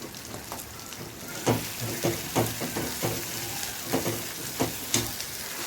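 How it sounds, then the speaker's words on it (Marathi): Ground coriander and cumin powder frying in hot oil for a Khandeshi pokla leaf dish: a steady soft sizzle with a series of sharper crackling bursts roughly every half second, close and moderately loud, no talk. "चांगला तेल सुटेपर्यंत तेलामध्ये चांगला कळसू द्यायचा"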